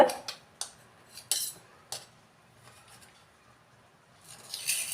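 Soft steamed idlis are lifted off a steel idli plate, bringing a few light metallic clinks and scrapes at uneven intervals, close and fairly quiet, with near silence between them.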